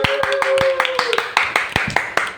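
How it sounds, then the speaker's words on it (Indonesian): A small group applauding for ladies from Japan in a podcast setting, quick bright hand claps in an uneven cluster lasting a couple of seconds, with a voice briefly audible underneath. "Tepuk tangan dulu dong"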